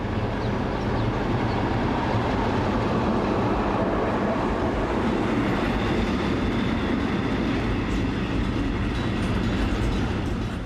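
Ex-German class 216 diesel locomotive 216001, renumbered 1900 008, departs with an empty clay train bound for Limburg: a steady loud rumble of engine and rolling wagons, with faint rail clatter, continuous and close throughout.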